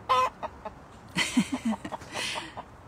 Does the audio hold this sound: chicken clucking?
yes